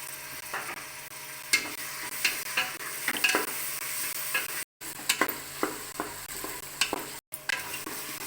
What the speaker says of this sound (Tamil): தக்காளி எல்லாம் நல்லா வதங்கிடுச்சு